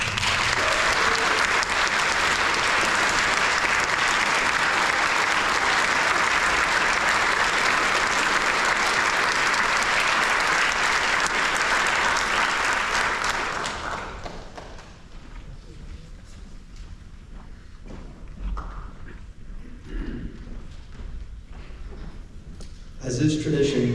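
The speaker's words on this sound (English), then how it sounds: "Can we give a round of applause for him?" A loud, dense round of applause fills a Day of Remembrance ceremony honoring a 94-year-old retired military veteran, sustained for about fourteen seconds before dying down to quieter room noise and scattered sounds.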